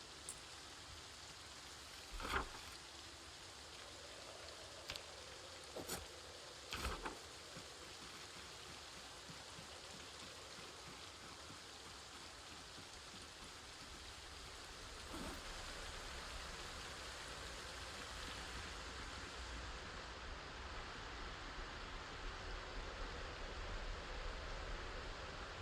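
Steady, even rain hiss in Project Zomboid, with a few short sharp knocks early on and the downpour thickening slightly in the second half; no voices.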